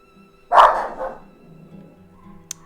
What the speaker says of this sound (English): all of the dogs going off at the same time